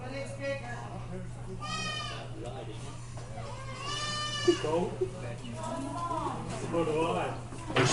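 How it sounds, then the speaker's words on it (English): Goats being brought into a crowded livestock auction bleat several times, drawn-out wavering calls that rise over the continuous murmur of a busy crowd. "And here we got some goats coming in."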